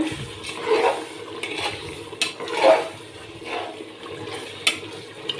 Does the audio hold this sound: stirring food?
yes